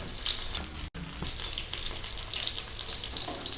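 Fish shallow frying in oil in a pan, a continuous bright sizzle with a brief sharp cut partway through, close and steady with no talk.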